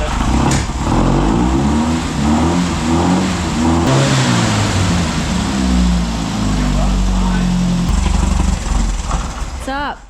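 A buggy engine cranks and fires up, then revs loudly and roughly up and down close by, running cold and sputtering near the end, with people talking over it.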